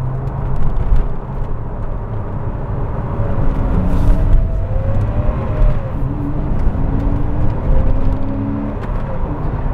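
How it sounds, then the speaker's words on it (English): A Porsche flat-six sports car from the late 1990s drives along with a steady engine drone and road rumble, loud and continuous, with the engine note rising and falling slightly. "You've always got that flat six wail on tap behind you for if and when you need it."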